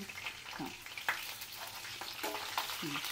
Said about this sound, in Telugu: ఎండిన మిర్చి, ఇక కరివేపాకు అన్నీ వేసుకొని